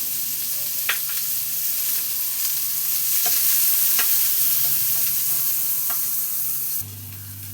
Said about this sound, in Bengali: এইবার এতে এই যে পেঁয়াজ কুচোনো দিয়ে দিচ্ছি, বেশ খানিকটা পেঁয়াজ কুচোনো দিয়ে দিচ্ছি।